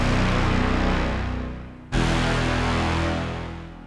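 Trailer low brass sample from Evolution Atlantica, two loud sustained swelling blasts of deep brass, each fading before the next hits, dense and powerful with no talk.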